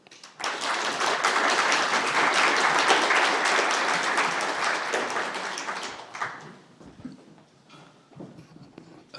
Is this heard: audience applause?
yes